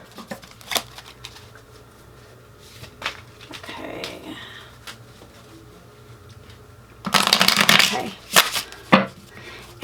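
Tarot cards being shuffled: faint papery shuffling early on, then a loud, close riffling burst lasting about a second and a half, followed by a few softer flicks.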